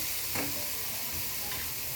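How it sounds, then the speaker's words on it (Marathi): Chopped tomatoes stirred into onions that have been fried until reddish in a pan for a pasta dish, a continuous hissing sizzle with a couple of scraping spoon strokes, close and fairly quiet, no voices. "टोमॅटो चांगला असा हलवून घ्यायचा."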